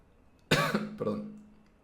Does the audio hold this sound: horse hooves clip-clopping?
no